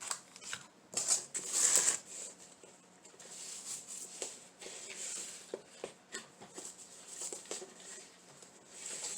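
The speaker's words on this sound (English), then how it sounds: "Now let's do the burlap. Just keep folding it over." Burlap ribbon being folded over and over for a wreath bow gives soft, close rustling and crinkling, with irregular scratchy bursts that are louder near the start and then quieter, uneven handling noises.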